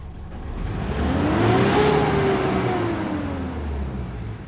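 A Mitsubishi Strada pickup truck engine runs nearby with a low rumble that swells and then eases back, a faint rising and falling tone riding on the idle.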